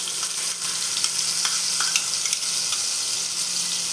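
A paste of two small onions and four or five green chillies fries in a pan with a steady, loud, close sizzle, broken by faint scraping ticks as it is stirred.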